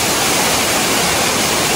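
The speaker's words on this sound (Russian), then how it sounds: "Вот у нас водопад. Вода падает." A waterfall roars as a steady, dense rush of falling water, loud and close, filling the whole moment with unbroken broadband hiss and no voices.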